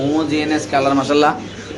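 Large fancy pigeons coo in low, soft bursts, kept by a home seller, while someone talks over them nearly throughout.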